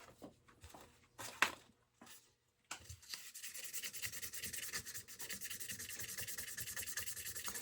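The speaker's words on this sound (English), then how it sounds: "Just going to buff on the frets themselves." A buffing wheel polishes the frets of a handmade guitar neck. A few faint rubs and scrapes come first, then a steady close whirring and rubbing hiss that continues without talk.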